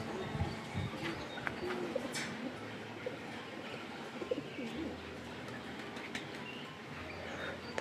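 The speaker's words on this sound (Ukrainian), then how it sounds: "Зозулька кує, пташки співають." Birds singing outdoors, with a cuckoo calling, repeated soft coos and scattered chirps over a constant low insect-like hum.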